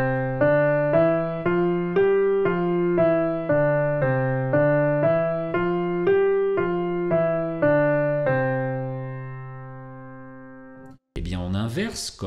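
Piano played with both hands together, the right hand loud and the left hand soft, in a steady series of evenly spaced notes over about eight seconds before a held final chord fades, followed by a brief voice.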